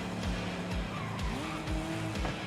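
Repeated low rhythmic thumps and tire scrubbing from a car sliding and skidding sideways in the Forza Horizon 5 racing game, with engine drone underneath and no one talking.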